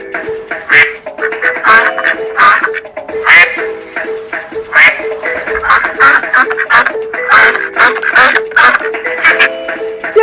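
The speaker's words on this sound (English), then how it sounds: "Duck." A duck quacks repeatedly in short, nasal bursts at an irregular, lively rhythm, loud and close, with no talking.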